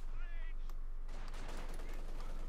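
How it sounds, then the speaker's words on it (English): MG34 machine gun raking windows in the video game Company of Heroes 2, sustained rattling fire mixed into distant battle noise, with a voice talking over it. "MG34 just raking the windows there of the guard's position"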